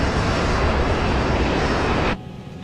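A loud, steady roar of an airliner's engines during a landing approach with gear and flaps down, filling the space before cutting off abruptly near the end.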